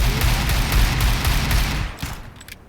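Rapid bursts of Desert Eagle pistol fire in the shooter game CS:GO, loud and dense for about two seconds, then a few scattered shots fading out near the end.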